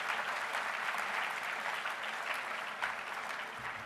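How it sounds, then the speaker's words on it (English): Steady audience applause fills a hall at a UK political business and energy event, a dense even clapping texture without a break, moderately distant and alone with no talk. "Let's give a huge round of applause for those businesses and the incredible job that they have done."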